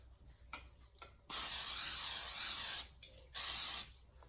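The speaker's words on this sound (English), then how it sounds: "Spray this bowl with a little cooking oil." Several short hissing spray bursts, then two longer sustained sprays of an aerosol can of cooking oil onto a bowl, close and fairly loud with quiet gaps between.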